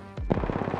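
Rapid automatic gunfire in a battle royale shooter, a dense burst of repeated shots starting after a brief lead-in, loud and continuous to the end, with no talk over it.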